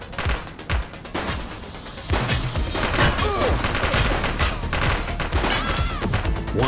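Video-game gunfire in The Precinct, a police action game: a loud, dense fusillade of rapid shots and bursts over several seconds, near and continuous.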